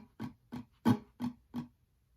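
A song strummed on acoustic guitar in a pattern with accented strums: five close strums in a steady rhythm, the middle one clearly louder, with nobody speaking.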